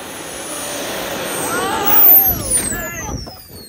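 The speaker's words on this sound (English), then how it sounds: "Full throttle on the jet." An R/C truck's jet turbine spools at full throttle, its rising and falling whine sweeping in pitch under a steady rushing roar. A sharp louder burst comes near the middle, and faint voices sound at the end.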